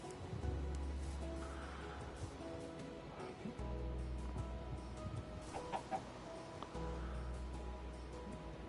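Chickens in Minecraft, including a white one, give soft clucks over a steady low background hum, with a few short louder calls scattered through.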